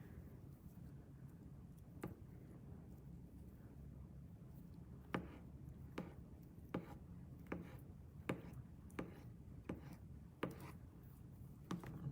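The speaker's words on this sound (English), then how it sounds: "Chop that one up." Boiled egg being chopped with a knife on a board for potato salad: a dozen or so soft, irregularly spaced taps, close and moderately quiet, with no talk.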